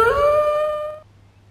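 A 7-week-old female Jack Russell terrier puppy lets out a single drawn-out howl, close and fairly loud, that tapers and stops after about a second, leaving quiet room tone.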